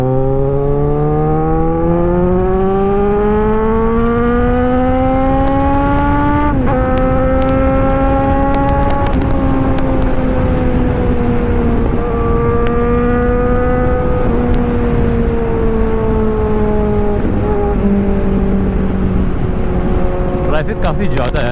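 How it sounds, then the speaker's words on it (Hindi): A vehicle travels through heavy highway traffic on the road from Delhi to Panchkula, heard as a loud, continuous engine drone whose pitch rises and dips, with a constant roar of road noise. "ट्रैफिक काफ़ी ज़्यादा है, जबकि हॉलीडे चल रहे हैं यार 3 दिन के। उसके बाद भी काफ़ी ट्रैफिक है रोड पे।"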